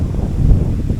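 Strong wind buffets the microphone outdoors on a trip in Pangasinan, a steady low rumbling roar with gusty swells that fills the whole second, close and loud, with no voices.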